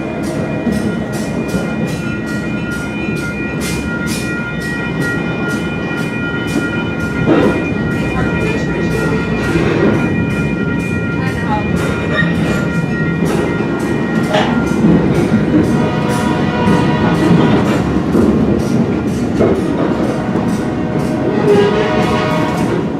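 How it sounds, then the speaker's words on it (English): The Shamokin Valley Lines excursion train runs on its rails, a loud steady rumble and rattle of cars with repeated clacks at wheel joints, carrying on throughout with occasional voices mixed in. "The train's going fast, man."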